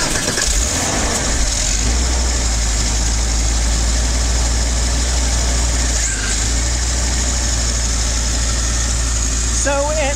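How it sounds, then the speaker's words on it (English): A steady, loud air-cooled engine runs at idle with a constant whirring cooling fan and broad rushing noise, unbroken for the whole stretch. "let's go ahead and take a listen to this thing as it runs"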